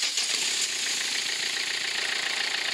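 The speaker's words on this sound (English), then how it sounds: "Start the engine." A car engine runs steadily after a timing belt replacement, with a fairly loud, continuous rattling mechanical drone heard close up, without talk.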